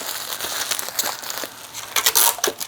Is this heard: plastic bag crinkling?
yes